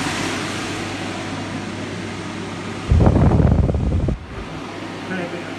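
A Sealey VEN250 portable ventilator fan with a 250 mm duct is switched on, producing a loud, close rush of air that holds for about a second before settling into a quieter steady whir.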